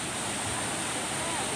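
A waterfall at Gundichaghagi, Keonjhar, roars as a steady broadband rush of falling water, loud and unbroken throughout.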